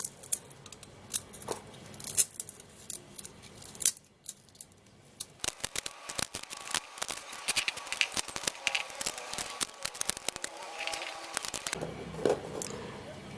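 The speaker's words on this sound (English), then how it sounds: "Now we're going to be peeling the garlic." Garlic cloves being peeled by hand, a steady run of dry papery crackles, tears and rustles close up, busy and uneven throughout with no talking.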